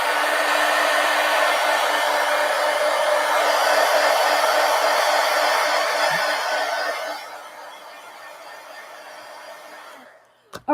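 A hair dryer dries artwork with a loud, steady whooshing roar that drops to a quieter setting after a few seconds before switching off with a brief click near the end.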